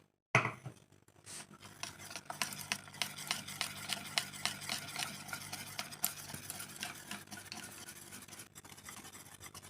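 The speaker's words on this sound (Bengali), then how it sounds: "বন্ধুরা, আমি কিন্তু এখানে অল্প অল্প জল দিয়ে ব্যাটারটা তৈরি করছি।" Batter for patisapta pitha with green peas is stirred with water by hand, a close, rhythmic scraping and slapping that repeats steadily in a bowl.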